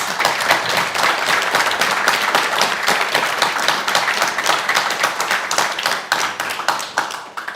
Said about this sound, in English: Could we have a round of applause for our panel, please?